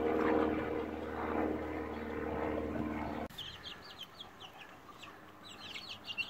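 Chickens cluck and call close by, first over a steady low droning hum, then more clearly after the hum abruptly cuts out.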